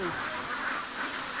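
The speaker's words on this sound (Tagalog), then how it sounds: "So, maayos naman na ikarga ang mga itik." Ducks are loaded into a poultry house. Quacks sound briefly through a noisy, busy background, mixed with some voices.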